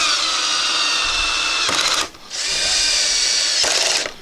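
Cordless drill driving screws during assembly of a Ryobi 40V 12-inch snow shovel: two high whirring bursts, each about two seconds, separated by a brief pause, close and loud.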